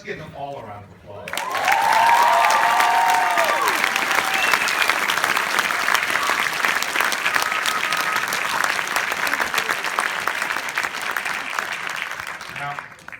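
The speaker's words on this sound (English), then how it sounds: "Let's give them all a round of applause." A panel audience applauds the cast of Fences with a sustained, loud wash of clapping that swells in after a short pause and continues for several seconds, with a few voices rising briefly near the start.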